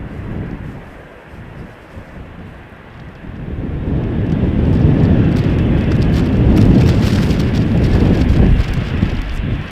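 KLM Embraer jet, five years old, taking off on a rolling start from runway 36L at Amsterdam Schiphol in showery weather. A broad roar of engine noise and wind swells from about four seconds and holds loud to the end, with no talk.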